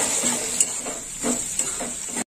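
Tomatoes and onions frying in a pan, a soft steady sizzle broken by a few scraping stirs of a spatula, close up, with no talking.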